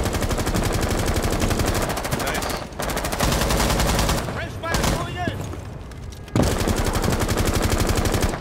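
Rapid automatic gunfire shooting through a wall in Rainbow Six Siege, dense continuous bursts with short pauses, loud and close, with voices talking underneath.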